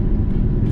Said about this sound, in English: downshifting on this car